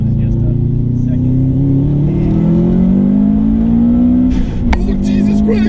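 The turbocharged engine of a 2005 Subaru STI revs loud and close, its drone climbing steadily in pitch before a sharp whooshing burst that fits a loud blow-off valve, with voices mixed in.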